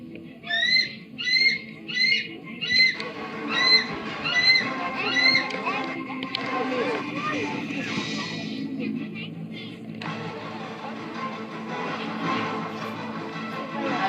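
A tawny eagle at a zoo bird show gives a series of about six rhythmic, strained calls, followed by a crowd murmur and a voice speaking through a loudspeaker.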